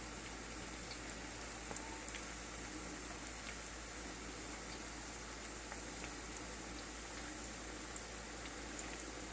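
Broccoli 65 fries in oil with a faint, steady bubbling sizzle and a few soft pops, quiet and even, with no voices.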